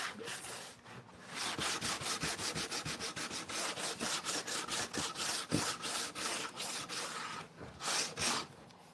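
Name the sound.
air sander sanding pallet wood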